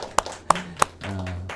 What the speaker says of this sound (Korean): 생애 마지막으로 한번 받는 박수